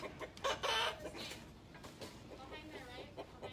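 Backyard chickens in Lake Elsinore cluck in short bursts close by, with a brief louder squawk early on, over steady outdoor background noise.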